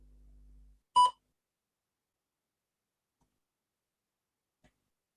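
A single short electronic beep in a TOEFL speaking practice test marks the start of the response time. It sounds once, clean and isolated, after a low hum fades out, with near silence following.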